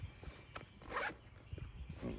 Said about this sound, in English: It's got a zipper on the front,